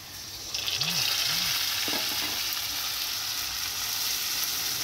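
Chopped onion cooking in a pan with garam masala paste, a loud steady sizzle that swells after a quiet opening, with brief spoon scrapes.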